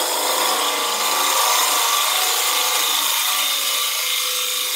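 Wood being cut by the side of a gouge on a lathe while turning a hat box, a steady, close, continuous scraping hiss that holds evenly with no talk.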